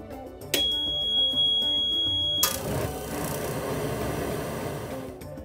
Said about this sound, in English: Your Tower of Power controller will also sound an alarm horn, indicating that the burner is about to ignite.